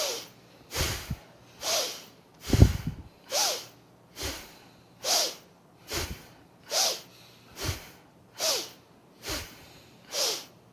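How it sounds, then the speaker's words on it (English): Slow, deep breathing during a meditation exercise: about a dozen evenly spaced, forceful nasal inhales and exhales, close and clear, with no talking. "So, inhale."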